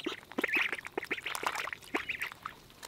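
Ducks quacking at close range, several birds calling at once in quick, overlapping nasal bursts with no pause, fairly loud and right by the listener.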